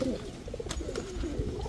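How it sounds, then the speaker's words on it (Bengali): Racer pigeons cooing close by, a couple of soft throaty rolling coos in quick succession with a faint background hiss. "5 কালারে 5 জোড়া রেসার কবুতর এক ভিডিওতে, এক প্যাকেজে"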